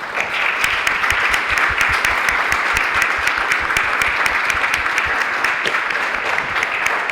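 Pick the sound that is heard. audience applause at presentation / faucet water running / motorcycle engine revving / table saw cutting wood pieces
audience applause at presentation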